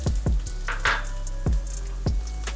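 Small onions and green chillies being tempered in hot oil, a crackling sizzle with several sharp pops and spatters in quick succession, close and fairly loud.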